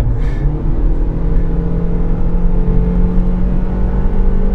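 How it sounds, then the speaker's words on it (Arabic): Steady engine drone of a Honda Civic inside the cabin, a constant low hum with whirring at speed through weak engine-to-cabin insulation, fairly loud and continuous with no talk. "مش تمام قوي، سمع الموتور بزياده."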